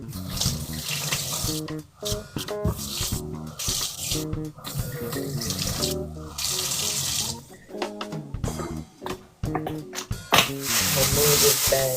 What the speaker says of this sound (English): I just cut up my potatoes, and let's go ahead and rinse these off.